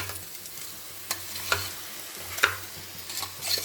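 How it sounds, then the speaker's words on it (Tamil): Chicken sautéing with salt in a pan for seeraga samba biryani, a steady sizzle of frying with occasional spoon scrapes and light taps, close and alone without voices. "நல்லா சேர்கிற அளவுக்கு நம்ம நல்லா வதக்கி விட்டுக்கிடலாம். வதங்கட்டும், 5 நிமிஷம் வெயிட் பண்ணுவோம்."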